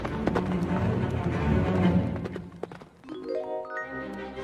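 A horse's hooves clatter in a quick galloping rhythm for a couple of seconds, loud and close, in a storybook sound effect, then fade as a bright musical flourish rises at the end.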